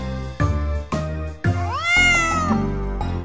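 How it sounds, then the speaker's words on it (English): Cat meows inside a children's nursery rhyme song, several sung-style meows over bouncy instrumental music, close and clear with a rising, drawn-out call in the middle. "A cat is in the barn,"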